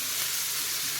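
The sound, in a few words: onions frying with salt in a pan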